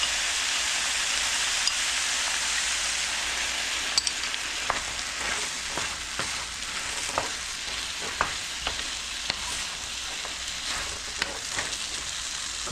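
Sauce hits the hot pan of a beef and pineapple stir fry, giving a steady, dense sizzle and frying hiss with occasional sharper crackles and pops throughout, near and loud with no voices.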